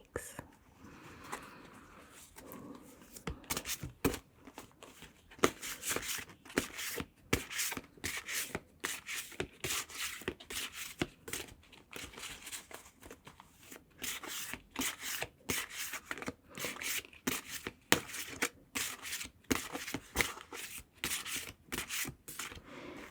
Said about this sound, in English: Because of the size of these cards, I cannot shuffle them very quickly